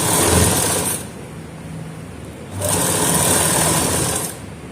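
A sewing machine runs in two loud, whirring bursts while stitching a fabric strip onto a round neckline, with a short, quieter pause between them.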